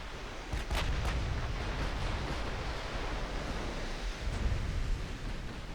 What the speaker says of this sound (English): Another ricochet, I think.